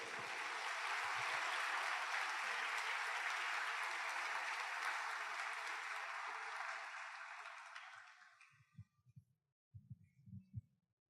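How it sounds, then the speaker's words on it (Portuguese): A church congregation applauds during a sermon: a loud, sustained wash of clapping holds steady for about eight seconds, then fades out, followed by a few soft low thumps. "Você pode dar uma salva de palmas a Ele?"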